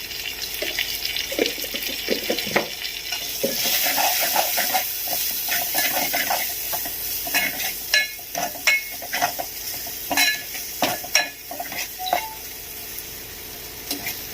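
Chili-powder masala frying in a pan for a prawn and egg curry, a steady sizzle and hiss with repeated sharp scraping and stirring taps through the second half.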